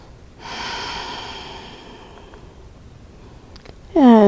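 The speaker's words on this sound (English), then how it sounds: "Take a breath here." A single audible breath drawn in and slowly released by a person seated doing chair yoga, close and soft in a quiet room, followed by a brief louder sound at the end.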